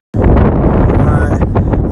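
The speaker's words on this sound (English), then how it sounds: "It's hella fucking windy outside." Strong gusting wind blasts across the microphone outdoors on a rocky ravine edge during a California road trip, a loud continuous low rumble with fluctuating gusts and no clear speech.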